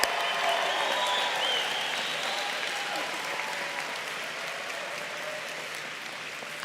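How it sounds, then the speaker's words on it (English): Sustained applause from a commencement audience at a law school graduation, a steady dense wash of clapping from a large crowd that holds level throughout with no talk over it. "yes, give them a round of applause."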